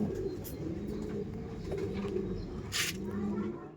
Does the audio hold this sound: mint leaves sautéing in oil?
no